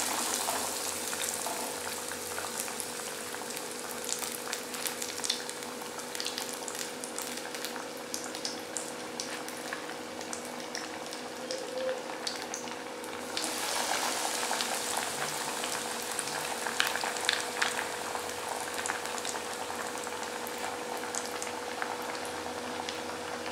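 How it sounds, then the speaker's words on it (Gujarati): Breadcrumb-coated cutlets fry in hot oil with a steady bubbling, crackling sizzle that fills the whole stretch, growing slightly brighter and busier partway through, with no talking. "આ રીતે કરીને એને આ ગરમ તેલમાં તળી લઉં છું"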